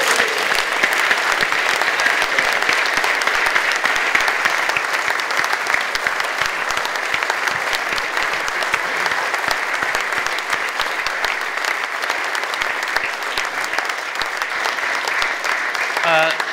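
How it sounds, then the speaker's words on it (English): Sustained audience applause fills an indoor room at a Brooklands talk with a motorcycle racer, dense continuous clapping with a few voices mixed in underneath. "I think a big, big round of applause to you"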